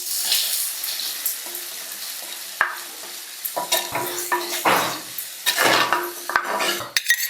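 Onions fry in hot oil for a masala, a crackling sizzle broken by repeated scraping strokes of a spoon against the pan and a few sharp metallic clinks, close and fairly loud.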